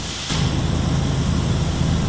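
A pressure washer in PowerWash Simulator starts spraying abruptly, then holds a steady, loud hissing rush of water with a low engine hum beneath it and no talk.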